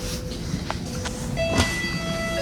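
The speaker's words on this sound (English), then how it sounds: "The train is in motion." A Toronto LRT light-rail train runs along in motion, a steady low rumble with faint rattles, a few clicks and a soft chime, heard from inside the car without talk.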